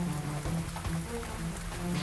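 Heavy rain mixed with hail falling during a sudden storm near Hoshangabad, a steady dense hiss of drops striking surfaces close by, with a low background rumble throughout.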